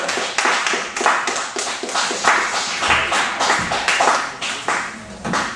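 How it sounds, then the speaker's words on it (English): An audience at a poetry event at The Afrikan Poetry Theater claps steadily as the poet Ras Roots is called to the stage. The applause is dense and continuous throughout, with no voices over it. "Put your hands together for Ras Roots in the building."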